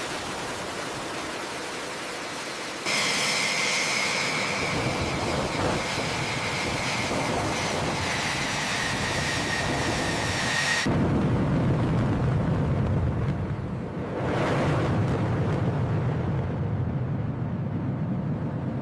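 F-16 fighter jet engine starting and running, a loud broad roar that rises abruptly, holds steady with a whining tone, then shifts to a deeper rumbling drone, continuous and close.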